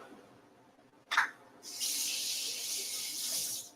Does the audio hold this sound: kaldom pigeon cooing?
no